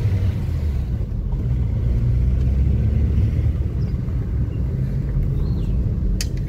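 Tata Indica LSI 2007 with a 1.4i engine cruising smoothly, a steady low engine and road rumble heard from inside the cabin, constant and fairly loud with no talk.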